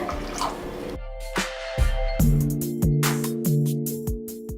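Water is poured and splashes into a pan, followed by a few short drips and clinks, fairly close and moderately loud.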